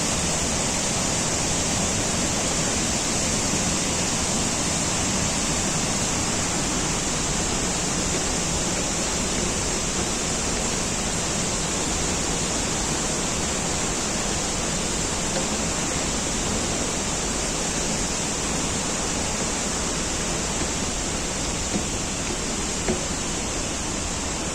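Saman Dere waterfall in Düzce roars in a constant, dense wash of falling water, loud and unbroken throughout, close by with no voices heard.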